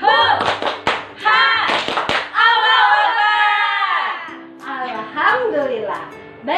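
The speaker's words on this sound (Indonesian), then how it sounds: "yuk kita sama-sama tepuk semangat" Schoolchildren and a teacher perform a rhythmic Indonesian clapping chant in an online class, with sharp hand claps punctuating loud sung and shouted voices.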